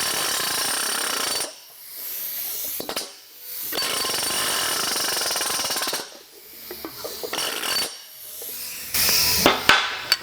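Handheld pneumatic planishing hammer, a homemade slapper spoon, rattling against sheet metal held on a dolly in fast buzzing bursts of a second or two separated by short pauses, loud and close.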